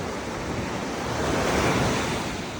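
Sea waves washing against cross-shaped breakwaters on a shore, a loud continuous roar of surf mixed with wind buffeting the microphone, swelling slightly mid-way with no talk.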